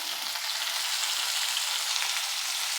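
Curry leaves and potato pieces frying for sambar give a dense, even sizzle up close that hisses steadily throughout, with no voices.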